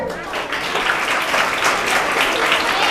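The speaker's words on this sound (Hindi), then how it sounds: "आप अपने लिए खुद तालियां बजाएं" Teachers and children at a school prize distribution ceremony applaud together, a dense, loud wash of clapping that holds steadily without a break.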